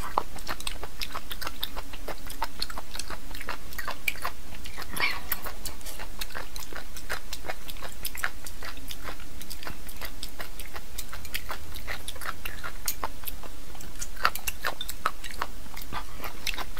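Chewing on a mouthful of scrambled eggs mixed with seafood, with steady close, wet mouth clicks and soft crunches repeating throughout, no talking.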